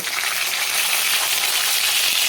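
Pieces of rohu or katla fish fry golden in hot oil, giving a continuous loud, close sizzle and crackle with no voices.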